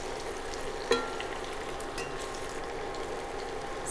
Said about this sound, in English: this is going to saute well, pick up all that flavor from the bottom of the pan and actually saute well along with the bitter melon